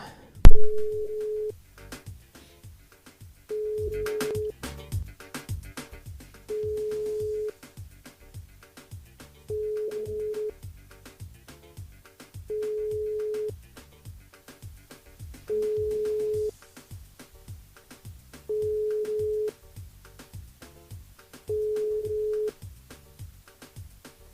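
A French telephone call rings out unanswered during a live radio broadcast, eight evenly spaced ringback tones with brief gaps between them, each a clear, steady, single-pitched beep, alone with no voices.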